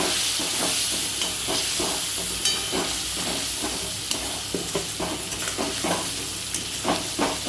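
Cumin, coriander, chili and turmeric powders mixed in water hit a hot pan for chicken korma, giving a steady loud sizzle and hiss with repeated scraping stirs ticking through it.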